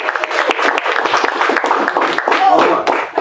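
Audience at a Toastmasters meeting claps enthusiastically, dense close applause running throughout with voices chattering underneath.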